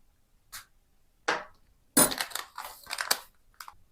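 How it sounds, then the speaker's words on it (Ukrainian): A teaspoon stirs sugar in a glass jar to dissolve it while making homemade coffee kvass, giving a few separate gritty scrapes followed by a quicker run of crunchy, grinding strokes, close and fairly quiet. "І перемішую, щоб цукор розчинився."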